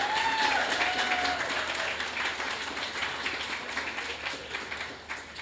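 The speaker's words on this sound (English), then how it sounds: "Please give them a round of applause." Audience applause for speakers at a literary event, a conversation with Bernardine Evaristo and Ayesha Harruna Attah, fills the hall as a dense, steady wash of clapping that eases slightly toward the end.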